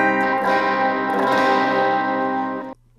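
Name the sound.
electric guitar with spacey reverb, delay and overdrive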